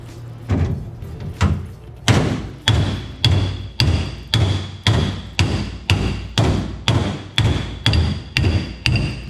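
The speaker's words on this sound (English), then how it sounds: "getting the tunnel dollied out to straighten the edges, so we got a nice straight surface to weld to" A hammer and dolly beat the edges of the sheet metal driveshaft tunnel on a race car build. About sixteen loud, close, ringing metallic blows land in a steady, even rhythm, roughly two per second, with no voices.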